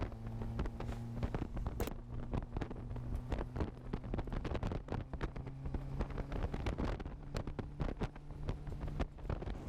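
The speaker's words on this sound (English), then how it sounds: "It's really windy, okay?" Strong wind buffets the microphone at a race track in a constant rough roar, with scattered crackling gusts and a low steady hum underneath.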